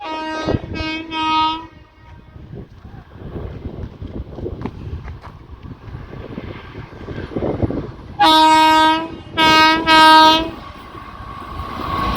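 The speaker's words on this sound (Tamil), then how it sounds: "நாகூர் தஞ்சாவூர் வண்டி போகுது பாருங்கள்" Nagore–Thanjavur passenger train passing on a new rail line near Peralam, with repeated loud horn blasts at the start and again near the end, a rumbling passage of the train between them.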